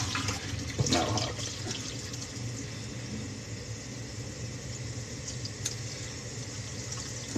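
Water runs steadily from a tap as soapy hands are rinsed at a sink, a constant close hiss with a few brief splashes and no talking.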